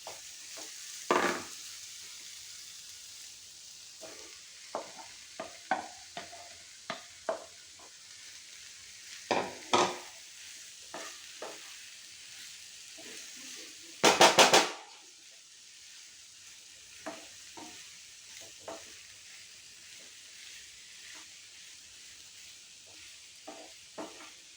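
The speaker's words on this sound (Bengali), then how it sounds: "এবার আমি ভেজে রাখা সবজিগুলো এখানে আমি মিশিয়ে দেবো।" Fried vegetables are stirred into masala in a pan, making soft sizzling under sharp spatula scrapes and clinks that come in irregular bursts, with one louder clatter partway through.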